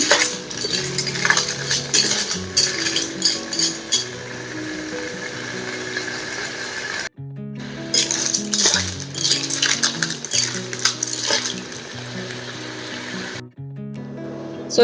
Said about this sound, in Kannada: ಕ್ಲಾಮ್ಸ್ ಹಾಕ್ಕೊಂಡು ಚೆನ್ನಾಗಿ ಮಿಕ್ಸ್ ಮಾಡ್ಕೊಳ್ಳೋಣ.